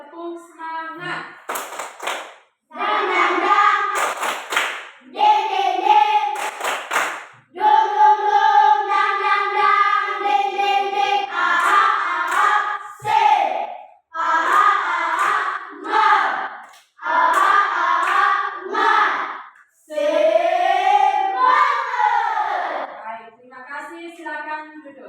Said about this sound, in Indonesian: Kita sama-sama menyanyikan lagu Tepuk Semangat.